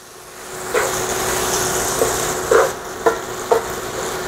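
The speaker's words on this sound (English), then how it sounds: "now what we're gonna do is add our 2 tablespoons of butter, and we're gonna allow this thing to melt" Two tablespoons of butter melting in a hot pan while making Salisbury steak, a soft steady sizzle and hiss, punctuated by several distinct scraping stirs or taps of a utensil, close up.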